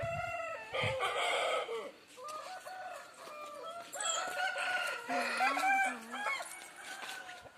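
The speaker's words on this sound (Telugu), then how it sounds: "ఈ కోడిని నేను ప్రత్యేకంగా పెంచుతున్నాను." A rooster being specially raised on a mango orchard farm crows loudly nearby, then breaks into a series of clucks and wavering calls, with other fowl faintly in the background.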